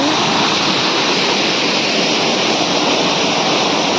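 Chatikana Waterfall below Niyamgiri hill, a loud continuous rush of falling water filling the scene from start to finish, with no voices over it.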